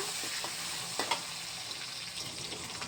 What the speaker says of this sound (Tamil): கொஞ்சம் வெங்காயம் சேர்த்துக்கிட்டேன். அப்புறம் ஒரு 2 பச்சை மிளகா சேர்த்துக்கிட்டேன். இவங்கெல்லாம் கொஞ்சம் வதங்கி வரட்டும்